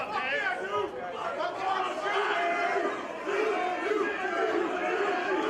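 A wrestling crowd during John Wayne Murdoch vs SHLAK, split in its support, roars and chants steadily throughout, a dense wall of many voices with shouted calls rising and falling.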